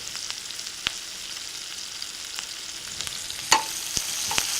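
Onions softening over reduced heat in a pan for cabbage and bacon, a soft, steady frying hiss with scattered faint clicks and one brighter clatter of a utensil.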